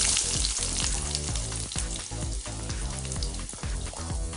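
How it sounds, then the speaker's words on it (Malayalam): Sliced onion dropped into hot coconut oil with popped mustard seeds, fried in a pan for a Kerala-style ivy gourd thoran, giving a loud, steady, dense sizzle with small crackles throughout and no talking. "നമുക്ക് സവാള ഇട്ട് കൊടുക്കാം."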